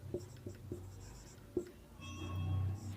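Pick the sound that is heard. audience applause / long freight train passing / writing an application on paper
writing an application on paper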